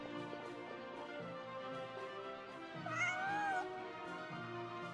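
A Northland Cat meows in Lost Ark, a short rising-and-falling call near the middle, heard over steady game music.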